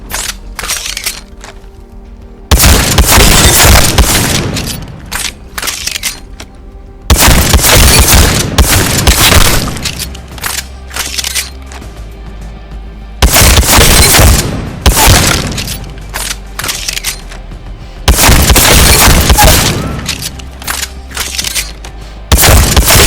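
Apex Legends shotgun blasts boom loudly and alone in four widely spaced heavy shots, each with a sharp crack and a lingering tail, separated by quiet pauses.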